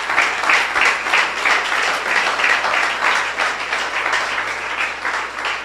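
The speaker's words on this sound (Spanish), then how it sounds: "Dar un aplauso a Jesús." A church congregation applauds, producing loud, sustained, dense clapping throughout with no pauses.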